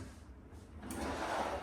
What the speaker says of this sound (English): you not only have drawers, but you also have the cabinets that open